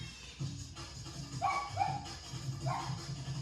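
A dog barks and yips a few times in short bursts, moderately near, over a low background rumble, with no talking.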